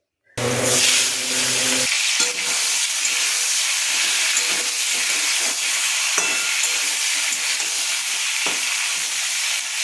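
Sugar and nigella seeds hit hot oil in a wok with a sudden loud onset, then a dense, steady sizzling hiss that continues strongly throughout, close up, with a few faint scrapes.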